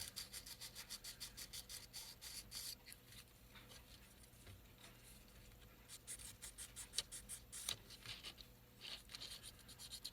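A hand file works the body of a resin HO scale locomotive, making faint, close, rhythmic rasping strokes that repeat steadily with short pauses between them.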